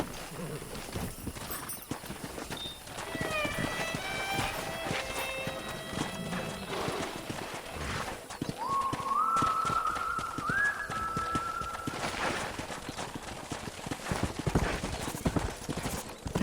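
Horse hooves clip-clop in the Red Dead Redemption video game during a horse-wrangling scene, a steady rhythm of hoofbeats running throughout with a whinny, bird calls and a melodic tone layered over it.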